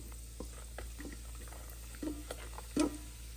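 Cumin and fennel seeds dry roasting in a pan, a faint steady sizzle with soft scattered pops and a couple of scraping stirs, close and quiet with no talk.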